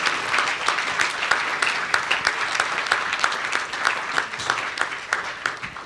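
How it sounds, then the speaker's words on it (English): Sustained applause from an audience at an award ceremony for cybersecurity competition winners, dense and continuous clapping at steady volume throughout with no talking. "deserve a big round of applause for their performance"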